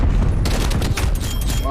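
Gunfire from a teammate in the video game Black Ops Cold War, played on PC in a hardcore match on the Nuke map. It comes as a loud, dense burst of rapid shots lasting the whole moment, with a voice talking over it.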